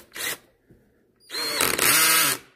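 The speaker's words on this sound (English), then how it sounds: "Now you go ahead and tighten the stainless steel screw clamp." A power tool runs in two bursts, one short and then a longer, steady whine, while tightening a stainless steel screw clamp on an outdoor sump pump discharge line. It is close and loud, and no one talks.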